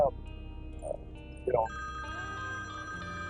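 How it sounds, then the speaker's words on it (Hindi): A telephone rings indoors, short bright electronic trills repeating a few times over a quiet background with a low hum. "फोन आ रहा है।"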